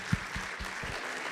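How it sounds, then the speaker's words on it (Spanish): Brief, faint applause from an audience thanking two panel participants at a conference on the human factor in driving cargo vehicles, a short soft patter with no voices. "les damos un aplauso"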